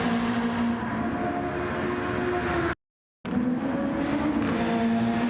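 Formula racing cars from a racing video game scream down a straight toward turn 1, a loud sustained engine whine with shifting pitch, cut by a brief moment of silence midway.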